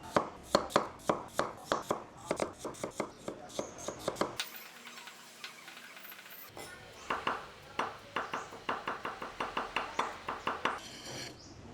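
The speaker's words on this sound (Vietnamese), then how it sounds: "Bây giờ thì mình sẽ cắt nhuyễn cái củ năng này." Rapid, steady knife chops mincing peeled water chestnuts on a cutting board, a brief pause in the middle, then more quick rhythmic chopping, close and crisp.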